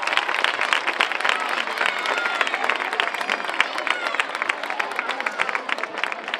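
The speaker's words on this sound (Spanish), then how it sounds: "un fuerte aplauso para todos" Loud, steady applause fills a school closing ceremony hall, many hands clapping densely throughout with crowd murmur mixed in.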